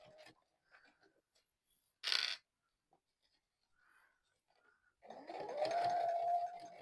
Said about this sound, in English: my plastic is moving a little bit as I sew